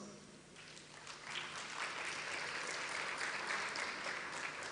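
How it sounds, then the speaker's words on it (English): Guests at an international museum and heritage forum break into applause, the clapping swelling within the first second and a half into a steady, full round that holds at moderate level in a large hall. "Please join me in showing your appreciation to our hosts, partners, and sponsors by giving a round of applause."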